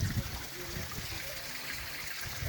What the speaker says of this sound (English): A little pipe coming out. There's water table's kind of high, so it's actually overflowing.